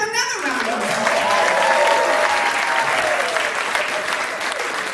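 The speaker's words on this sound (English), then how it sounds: "Give yourself another round of applause." An awards show audience applauds loudly and steadily, with a voice trailing off at the start and cheering mixed into the continuous clapping throughout.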